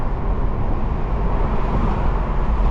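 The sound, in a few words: wind noise while driving 2023 BMW Z4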